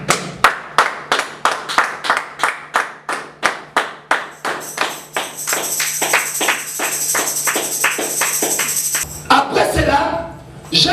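A church congregation claps in a steady rhythmic beat, the sharp, loud claps giving way to dense applause and cheering voices that build toward the end.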